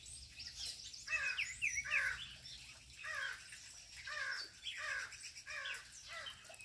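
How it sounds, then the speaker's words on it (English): Birds chirp and call outdoors in a run of bright repeated calls, some harsher and crow-like, coming in bursts over a faint low ambient hum. "Listen to the birds."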